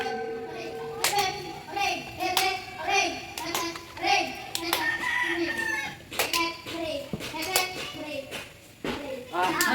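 Children playing a hep-hep hooray clapping game clap their hands in scattered, uneven bursts, mixed in with lively children's voices and chatter.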